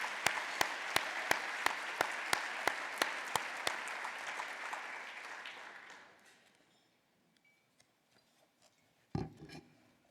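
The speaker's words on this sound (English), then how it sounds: "So let's give Cheryl and her staff a round of applause." Audience applause at a governor's event, heard as a steady wash of clapping with a few sharp close claps, fading out after about six seconds into near silence before a brief thump.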